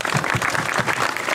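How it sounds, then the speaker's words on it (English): A big round of applause from a crowd of students and teachers at a college freshers' meet. The clapping is dense and continuous, fairly loud and close, and fills the whole short stretch without any voices over it. "A big round of applause."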